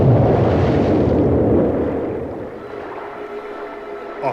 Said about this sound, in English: a heart-stopping explosion ripped through the already troubled waters